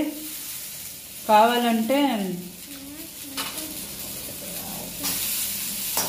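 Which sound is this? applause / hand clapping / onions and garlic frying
onions and garlic frying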